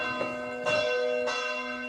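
Church bells ring in a steady series of struck peals with long sustained overtones, each strike blooming and decaying into the next, fairly loud and alone with no voices.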